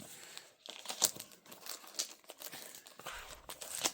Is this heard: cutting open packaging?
yes